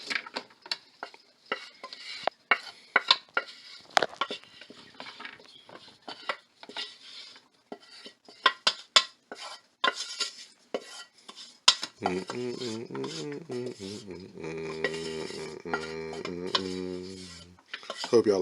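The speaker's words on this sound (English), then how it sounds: "add the cooked rice and stir it" A utensil stirs cooked rice with hot paprika in a pan, scraping and clinking in irregular bursts, close and fairly quiet, later joined by music.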